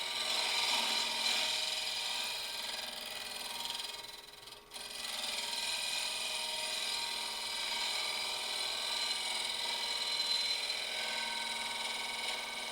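A carbide boring bar sweeps back and forth inside a maple burl hollow form spinning on a wood lathe, giving a continuous dry rasping scrape with one brief dip midway.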